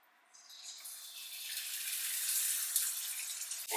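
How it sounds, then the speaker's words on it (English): An egg drops into hot brown butter in a small pan, setting off an immediate hissing sizzle that swells within a second and then holds as a steady, crackling fry. "there you go, the immediate sizzle. Look at all that crackling going on."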